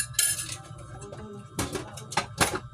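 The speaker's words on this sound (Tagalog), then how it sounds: "Ito mga hugasan na ito. Ito lang plato namin." Plates and dishes clatter and clink as they are handled for washing, a few sharp bursts of ceramic knocking against one another in a home kitchen, close by with no one talking.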